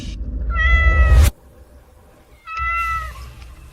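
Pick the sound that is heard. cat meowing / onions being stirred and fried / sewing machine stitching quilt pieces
cat meowing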